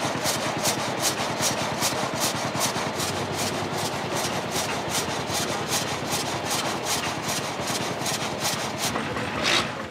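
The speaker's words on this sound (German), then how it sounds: "die älteste Riesenmaschine in Emmen, eine Säge, angetrieben von einem Dampflokomobil" A steam-powered saw driven by an 1889 steam traction engine cuts through wood in fast, regular rasping strokes, steady and continuous, with a low mechanical rumble underneath.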